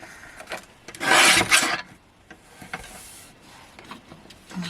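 A paper card is sliced on a trimmer, one loud scraping cut near the start followed by quieter sliding and rubbing sounds close by.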